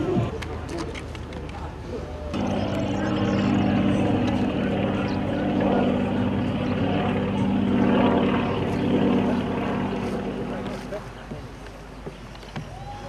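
A light aircraft of a regional aviation club in Kherson oblast takes off from the Skadovsk airstrip, its propeller engine droning steadily and fairly loud for several seconds before easing off, with a voice speaking over it.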